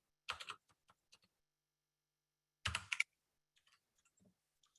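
Keys clatter on a computer keyboard in two quick bursts of typing separated by a pause, followed by a few scattered faint taps, all close and quiet with no talking.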